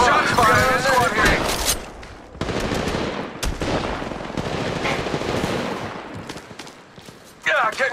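Rapid automatic gunfire in Apex Legends Mobile, dense loud bursts and single shots crackling over several seconds, mixed with game voice callouts and a final burst at the end.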